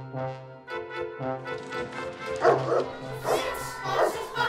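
Dogs bark and yip in a house during a family holiday dog movie, several short barks in bursts over harmonic background music, with a voice briefly calling out.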